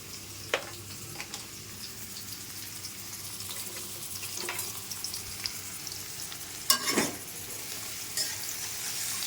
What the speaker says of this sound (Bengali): এখন নেড়ে দেব।